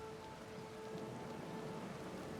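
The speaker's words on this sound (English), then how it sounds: "the rain pounds your deck with relentless animosity" Rain pounds a ship's deck during a storm at sea in Pillars of Eternity 2, a dense steady hiss of drops with a low rumble beneath and a faint sustained tone, soft and unbroken.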